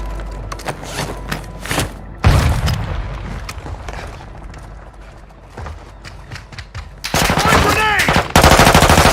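Gunfire rattles in rapid close bursts in Call of Duty MW2 DMZ, a frag grenade blast hits hard partway through, and louder automatic fire closes it out, with brief voices in between.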